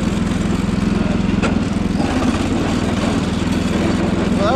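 A mudmower lawn mower engine runs steadily and loud throughout on a first test drive, with a constant low rumbling drone and no pauses.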